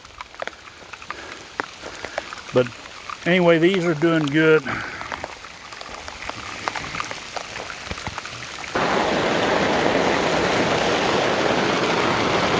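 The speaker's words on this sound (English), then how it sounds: "now we're getting a little bit of rain." Rain falling on a greenhouse starts partway through as a steady, loud hiss that fills the rest of the clip. A person speaks near the beginning, before the rain takes over.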